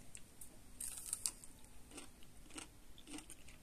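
Quiet, close crunching bites and chewing of crunchy pickled turnip, a few crisp crackles spaced irregularly over a few seconds, with no talking.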